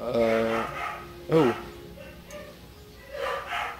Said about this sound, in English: Oh, that's my dog.